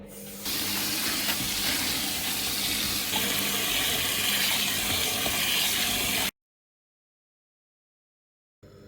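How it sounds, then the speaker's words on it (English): Tap water runs steadily into a sink to rinse wheat grain, a continuous broad splashing gush for about six seconds before stopping abruptly, leaving silence. "So next part of the process is to rinse the grain, and we're just gonna use normal tap water."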